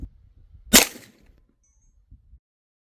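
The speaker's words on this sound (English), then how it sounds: "next we're shooting the 25 cal Hubin, turned all the way up, shooting some 40 grain H&N slugs" A .25 caliber Huben air rifle, turned all the way up and firing 40-grain H&N slugs, lets off one sharp, loud crack with a short tail, followed by faint distant knocks.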